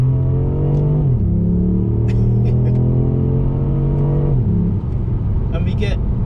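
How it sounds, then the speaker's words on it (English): Ford Puma ST hybrid in sports mode with manual gear selection, engine droning loud and close with two audible shifts in pitch as revs change, steady rumble throughout with a voice talking over it. "Press this S button on the steering wheel, goes into sports mode, flick this down into M, the car livens up a bit."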